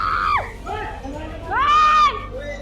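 Eyewitnesses to a knife attack scream and cry out in distress, with high wailing voices rising over a tense crowd murmur.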